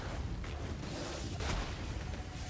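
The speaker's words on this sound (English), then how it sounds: "Oh, nice explosion." A video game explosion in Path of Exile, a dense, rumbling roar of blasts with a sharper burst partway through, set in a continuous wash of noisy in-game combat.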